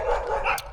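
A Shih Tzu dog gives one short, close, high-pitched bark that lasts under a second.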